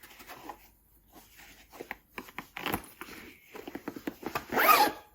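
Zipper on a big, deep beach bag being pulled open or shut, several short rasping runs close by and fairly loud, with a longer, stronger pull near the end.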